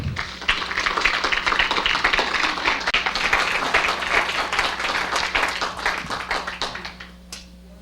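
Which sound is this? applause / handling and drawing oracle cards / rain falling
applause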